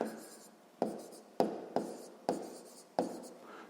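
Pen or marker writing an answer to a sixth-grade maths exercise, heard as six sharp, evenly spaced strokes or taps, each with a short scratchy tail, close and moderately loud with faint room noise between them.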